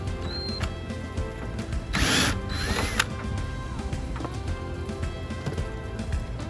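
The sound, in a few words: ratchet wrench removing screws from Jeep rear door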